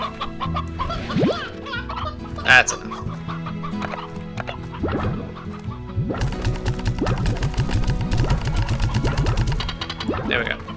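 Chickens in the farming game Slime Rancher cluck in rapid, overlapping bursts, loud and close, with a brief voice speaking partway through.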